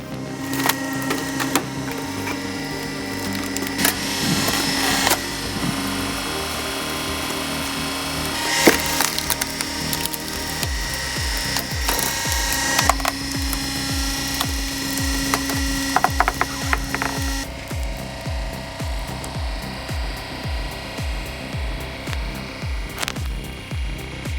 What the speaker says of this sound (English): This homemade powerhouse turns logs into perfect billets in seconds.